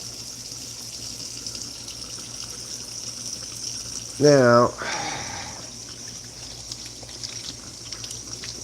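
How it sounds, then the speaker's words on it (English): Tap water runs steadily into a sink during handwashing, a constant close hiss throughout, with someone speaking briefly midway. "So you wash your hands by using water, a sink,"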